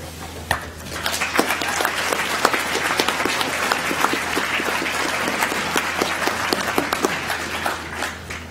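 A commencement audience applauds PhD graduates, dense steady clapping that stays loud and even for several seconds, with scattered sharper claps standing out near and far.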